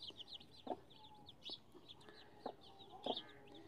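An Aseel hen clucks softly in short, repeated bursts against a quiet outdoor background on a farm, with faint chirps of other birds.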